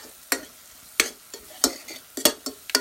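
Softened onions fry in a pan while a utensil stirs them, making a run of sharp scraping clacks at an irregular beat over a low sizzle, close up and with no talking.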